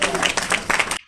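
An audience at a panel claps in a short, busy burst that stops abruptly after about a second, with some voices mixed in.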